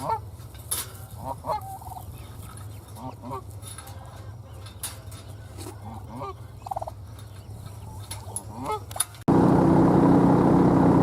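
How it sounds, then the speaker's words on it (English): An ornery goose honks repeatedly on a snowy farm among a flock of turkeys, with scattered gobbles and bird calls over steady outdoor background noise, ending in a loud burst of wind-like rumble. "That goose is kind of ornery."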